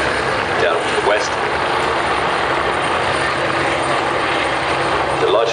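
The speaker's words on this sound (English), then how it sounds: "The helicopters are now lifted." Several helicopters lifting off together at the Farnborough airshow, a steady loud rotor and engine roar filling the whole stretch, with a voice talking underneath.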